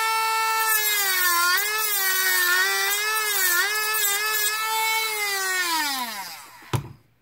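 A Dremel rotary tool cuts a notch for a blinking crossing badge, a steady high whine that wavers and sags under load, then winds down near the end and finishes with a sharp click.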